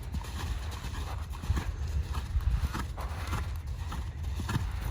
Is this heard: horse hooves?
yes